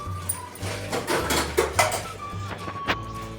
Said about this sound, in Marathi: या पद्धतीने असे सर्व भेंडी मी आता चिरा पाडून घेते